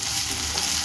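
Ginger-garlic paste frying and being stirred in a pan for chilli chicken curry, a loud continuous close sizzle with a brief scrape near the end.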